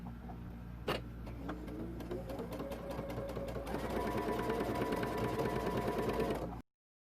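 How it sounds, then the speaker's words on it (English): A sewing machine stitching around a double welt pocket on a jacket: a fast run of mechanical ticks, then a steady close whirring hum that stops abruptly. "we're going to sew all the way around"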